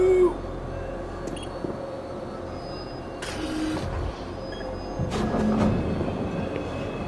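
A train ride in the video game Doom 3: a steady low rumble of rolling rail cars, with faint clanks and a couple of brief louder bursts, running alone at moderate level.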